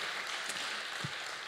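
An audience at a talk gives a brief burst of applause, heard as a faint, even patter of clapping with no voices over it.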